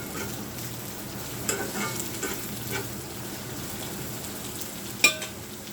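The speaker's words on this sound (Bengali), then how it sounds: "পেঁয়াজ কাঁচা ঝাল দিয়ে দিলাম তেল দিয়ে দিলাম এখন একটু ভাজি করে নিব" Chopped onions and green chilies fry in hot oil in a pan, giving a steady, close sizzle with a few scraping stir sounds and one sharper clink near the end, with no talk.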